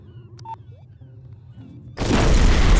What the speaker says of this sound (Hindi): बॉम्ब को फोड़ देते हैं।